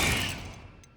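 A Confringo spell blast in the Hogwarts Legacy video game, a single loud burst that fades away over about a second, with a faint high ring near the end.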